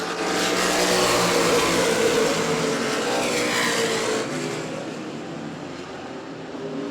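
Race cars at New Smyrna roar past in a loud, dense pack, engines blaring together before the noise fades slightly as they move away, with no talk heard.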